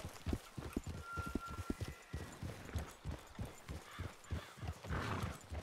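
Horses trotting in the video game Red Dead Redemption II: steady, close clip-clop hoofbeats in a quick even rhythm that runs throughout, with a brief whinny-like call and no talking.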